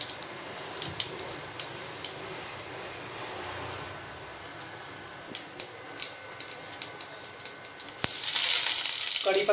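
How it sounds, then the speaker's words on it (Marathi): Mustard seeds sizzle and pop in hot oil during tempering for a Malvani-style chana dal sambar, a quiet steady fry with scattered crackles and a louder hiss near the end. "तेल गरम झालेलं असा, फोडणीसाठी मोहरी टाकून घ्या"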